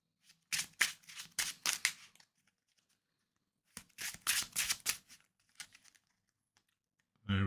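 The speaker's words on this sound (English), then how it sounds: "Then we're going to shuffle up our deck." A deck of Marvel Champions cards is riffle-shuffled twice, each burst a quick run of crisp flutters and snaps, close and clear, with a short pause between the bursts and a soft thump at the end.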